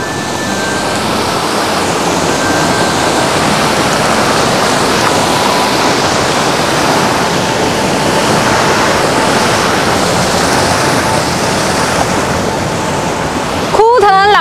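Clear water flows in a river past a riverside village deep in the Hunan mountains, a loud, steady, close rushing wash that continues unbroken.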